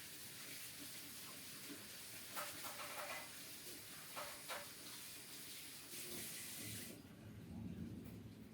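A water tap runs faintly while an item is washed during the rehousing of a tarantula, a steady soft hiss of flowing water with brief louder splashes, heard alone and at a distance.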